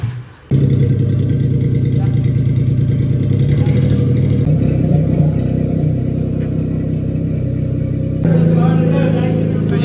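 A Daihatsu Charade 1300cc engine runs with a loud, close mechanical rumble and clatter after a short start, holding a steady pitch with slight revving swells near the end.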